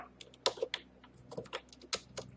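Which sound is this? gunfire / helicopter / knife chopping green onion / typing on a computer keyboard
typing on a computer keyboard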